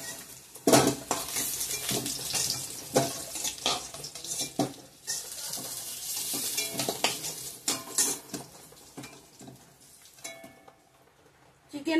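Chicken cooking in a pan with garlic and whole spices sizzles softly under frequent scraping and clinking of a metal spoon against the pan, close and irregular.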